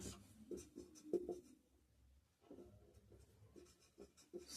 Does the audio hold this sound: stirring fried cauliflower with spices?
no